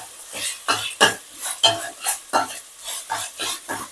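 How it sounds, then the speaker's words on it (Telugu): Ginger garlic paste frying and being stirred in a pan, with a regular rhythm of scraping spatula strokes over a soft sizzle, close and fairly loud, no talking. "ఇదంతా పచ్చివాసన పోయే వరకు బాగా వేగనిద్దాము"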